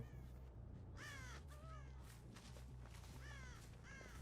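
Flock of crows cawing repeatedly in the horror game Dead by Daylight, several harsh calls in bursts over a steady low background hum.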